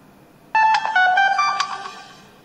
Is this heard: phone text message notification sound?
yes